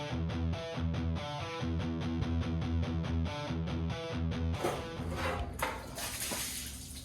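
Water pours and splashes out of a 1929 Ford Model A engine during a budget rat rod hot rod build, a broad rushing gush that begins partway through after a stretch of steady rhythmic music.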